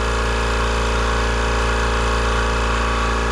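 A new shop air compressor runs with a steady, even hum and layered tonal drone, loud and close, with no pauses or talking.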